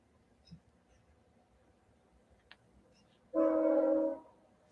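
A passing train sounds one loud horn blast of about a second, cutting through an otherwise quiet room tone before stopping abruptly.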